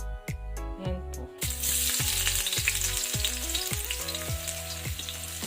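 Filipino food fries in a pan with a loud, steady sizzle. A few plucked musical tones come before it and carry on faintly underneath.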